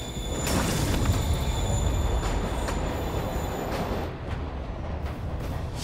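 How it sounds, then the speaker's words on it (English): A train moving in the Spider-Man Remastered video game: a loud, continuous rumble of rolling wheels with faint squealing, steady throughout before easing slightly near the end. "Train moving."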